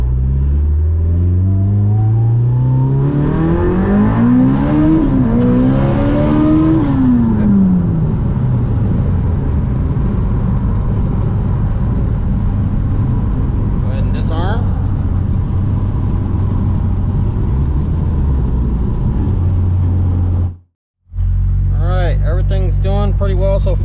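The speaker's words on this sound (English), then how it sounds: "First and second gear, and we're gonna do a no lift shift first and second." Fueltech-tuned Mitsubishi Evo 8 accelerating hard through first and second with no-lift shifts, the engine climbing in pitch, dropping at the gear change and climbing again, then a long loud drone, a brief cutout, and a final burst of revving.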